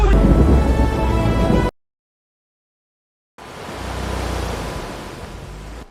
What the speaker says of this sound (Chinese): 外面下着暴雨不能出海